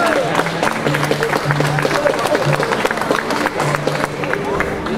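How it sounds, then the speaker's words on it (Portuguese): Audience applause for a singer at a folk cantoria tribute event in Arrifes, a loud, dense clatter of clapping with crowd murmur and voices mixed in throughout. "com uma grande salva de palmas"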